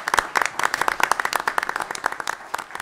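An audience at a county commission meeting applauds, with a small group's quick, irregular claps that come close and clear, thin out slightly toward the end, and have no talk over them.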